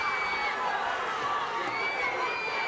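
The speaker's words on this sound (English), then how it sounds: "You can hear the anxiety in this crowd." A boxing arena crowd keeps up a dense, steady roar of voices and murmuring, loud and continuous, with a commentator talking faintly within it.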